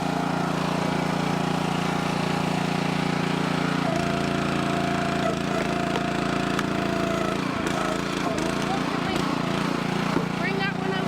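The engine of a Split-Fire 2265 wood splitter drones steadily and loudly nearby throughout, with occasional clanks and a voice over the constant running.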